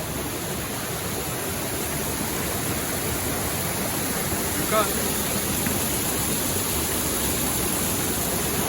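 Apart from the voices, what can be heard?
river water flowing strongly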